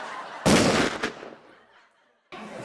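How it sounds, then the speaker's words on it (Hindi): Sharp gunshot-like bursts fired on a comedy show stage, one loud blast followed by a second crack, then a decaying tail, silence, and another burst of sound at the end. "गोलियां क्यों वेस्ट कर रहे हो सालो?"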